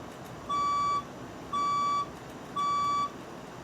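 Three evenly spaced electronic beeps sound during a building fire alarm test, each about half a second long, loud and clear over a faint background hiss.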